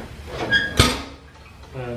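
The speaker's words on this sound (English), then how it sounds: "The draft for the fire is controlled by this door down here." A metal draft door at the bottom of a homemade steam engine's firebox is swung open or shut with a single sharp clank amid faint clatter, while someone talks nearby.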